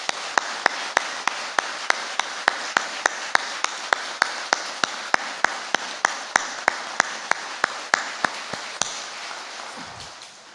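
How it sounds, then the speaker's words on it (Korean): A church congregation at Sunday worship claps in a steady, evenly spaced rhythm, sharp regular claps over a wash of broader applause that fades out at the end. "내가 할 수 있는 최고의 박수와 최고의 영광의 마음을 담아서 뜨겁게 감사의 박수 하나님께"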